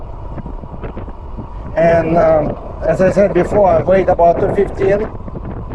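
Steady wind rushes and buffets the microphone throughout while someone talks over it, riding a MeeBike Gallop electric bike.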